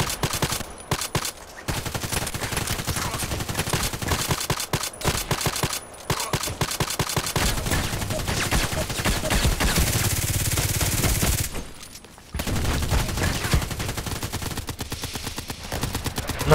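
Rapid automatic gunfire in an online first-person shooter, with dense loud bursts, brief pauses between volleys and near-continuous fire throughout, including Glock pistol shots, with no talking.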